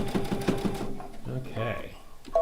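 A sewing machine stitches a double line around the edge of a fabric bowl cozy, a quick rhythmic needle chatter at first that gives way to a person speaking.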